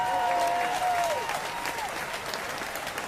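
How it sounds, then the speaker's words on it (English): A radio studio audience applauds a guest arriving on a talk show, dense steady clapping that fades gradually, with a bright electronic tone sliding down over the start. "I love that audience with all that applause."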